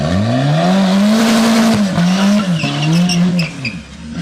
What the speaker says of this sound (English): we got some burnout juice going down on the ground to help us out right here